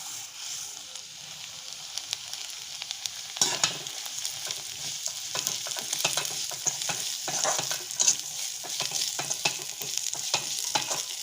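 Rice frying with sugar in a pan for kheer, stirred continuously: soft sizzling under repeated scraping strokes, moderately close and quiet, with no talking.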